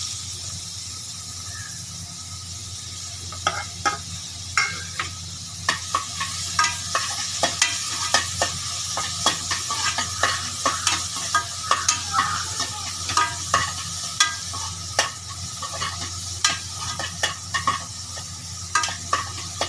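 Finely chopped big onions fry in hot oil with bay leaf and fennel for hotel-style salna, a constant close sizzle under frequent quick scraping strokes of a spoon stirring the pan, growing busier after the first few seconds, with no talking.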